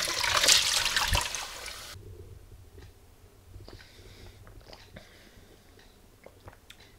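Tap water gushes loudly for about two seconds, then cuts off, leaving quiet room tone with a few faint clinks.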